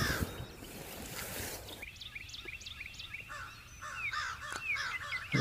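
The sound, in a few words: birds, crows outside a poncho shelter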